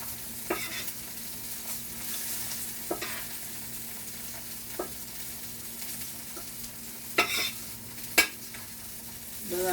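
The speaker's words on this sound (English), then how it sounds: "That's how fish is when you fry fish." Cod frying in a pan for escovitch, a steady hissing sizzle with scattered sharp scrapes and taps as pieces are moved about, close and moderately loud.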